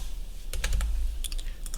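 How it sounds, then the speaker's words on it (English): Quick bursts of close computer keyboard keystrokes while entering a password, two short clusters of clicky taps over a low steady hum. "I'm going to type in my password"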